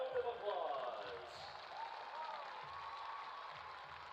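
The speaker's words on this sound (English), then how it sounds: "Let's give them all a round of applause." A crowd applauds the homecoming court at a high school event. Steady clapping fills the space at moderate volume and fades slightly over the few seconds.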